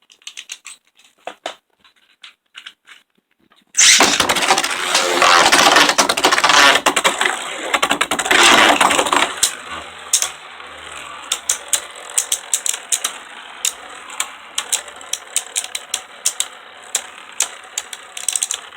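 Two Beyblades, Geist Fafnir and Chozy Spriggan, battle in a stadium after a few clicks of launching, a loud continuous rattling grind of spinning tops for several seconds that fades into sparse ticking taps as they slow down.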